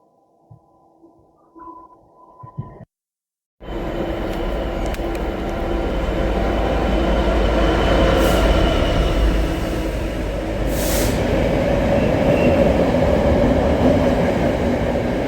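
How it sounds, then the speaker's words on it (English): A Class 66 diesel freight train passes through a railway station without stopping, after a quiet, hushed platform. A loud, steady rumble and rolling clatter of wagons then carries on for about twelve seconds. "And something coming through which isn't stopping, which I think might be freight."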